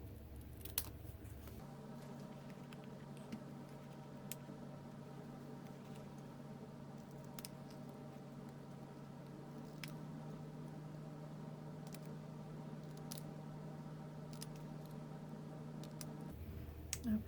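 Scissors cut out a small paper sign for a stamped card project, producing a steady low rasp of paper-cutting with faint clicks of the blades at intervals, close and quiet, without talking.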